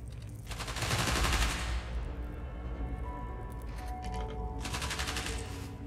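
Bursts of rapid gunfire in the Spider-Man: Miles Morales video game, a dense loud volley swelling early then continuing as steadier rattling fire with a second burst near the end, no voices over it.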